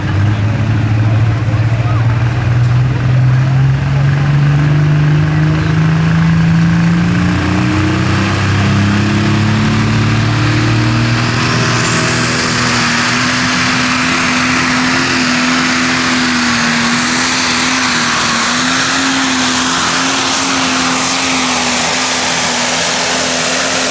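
A modified Case IH 300 pulling tractor named Hooked on Red roars loud and near during a run at a Kempton tractor pull, its engine pitch climbing then holding high, with an announcer's voice over it.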